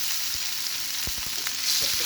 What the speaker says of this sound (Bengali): ভালো করে ভেজে নেব এই পেঁয়াজিটা